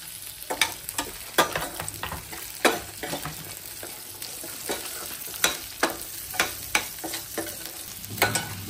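Onion fries in a pan with grated ginger while paneer chilli is cooked, giving a continuous sizzle broken by repeated sharp scraping stirs of a utensil against the pan, close and without talk.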